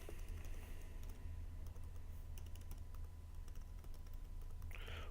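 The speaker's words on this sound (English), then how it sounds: "and type in" A computer keyboard clicks with quick, light keystrokes as a link is typed in, faint and close over a steady low hum.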